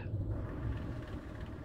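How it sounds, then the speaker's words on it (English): A Spitfire Mk I engine in the Microsoft Flight Simulator video game shuts down as a steady low rumble that holds evenly without obvious spooling down, with no talk over it. "Engine shutting down instantly there"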